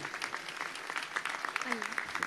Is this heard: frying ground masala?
no